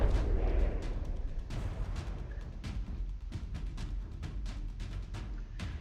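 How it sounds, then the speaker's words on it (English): Heavy naval guns fire in a From the Depths battle, a dense, rumbling barrage of repeated booms and cracks, some sharp and close, others deeper and overlapping, with no voices. "another gun pops off"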